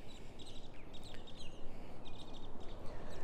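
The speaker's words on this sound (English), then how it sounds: "All the birds are kind of chatty over here." Birds chirp and twitter in scattered bursts at an RV campground, moderately distant over a soft, steady outdoor background, with no talk.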